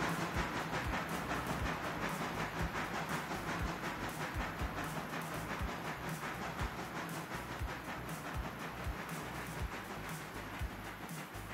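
Train rolling along in a railway video game, a steady loud rumble with hissing and repeated clickety-clack thumps of wheels over rail joints, continuous throughout with no talk.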